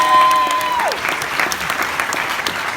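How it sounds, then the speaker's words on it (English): A room full of people bursts into steady clapping that fades slightly toward the end, following a short tone that bends downward at the start. "I want to give them another round of applause"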